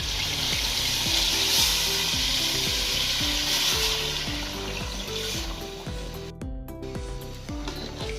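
Chicken stock poured into a large pot of frying chicken pulao with rice, giving a loud, steady sizzle and bubbling hiss that holds throughout, with no voices.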